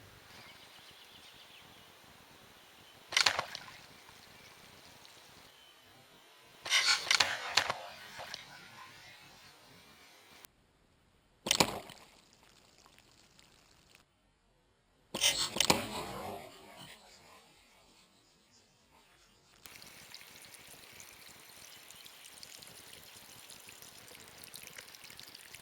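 A primitive feather spear trap triggers and strikes a hanging water bag outdoors, giving several sharp bursts of rushing, splashing noise separated by quieter gaps, followed by steady running water.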